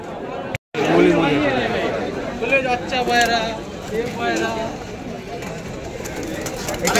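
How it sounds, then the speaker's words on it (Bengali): Pigeons cooing and fluttering at a busy pigeon market in Galiff Street, Kolkata, with soft coos running under loud, close conversation among people throughout. "সব সারাদিন ওড়ানো পায়রা"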